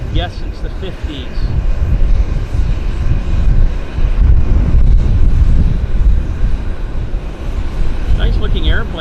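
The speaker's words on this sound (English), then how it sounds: "The Otter, this is a Turbo Otter." Turbo Otter floatplane at Vancouver airport, its turbine engine giving a loud, continuous broadband roar that holds steady throughout, with a voice talking faintly beneath it.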